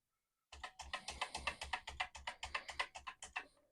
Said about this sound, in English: So I have been exercising this keyboard.